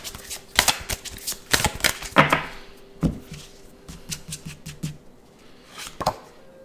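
Witch's Wisdom oracle cards are shuffled by hand, giving irregular bursts of crisp riffling and slapping card sounds with short pauses between them, close and fairly quiet.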